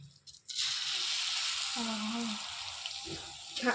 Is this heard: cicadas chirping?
no